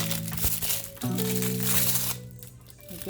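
Parchment paper crinkles and rustles close by as fish parcels are unwrapped in a home kitchen, with sharp crackling bursts over a steady low hum.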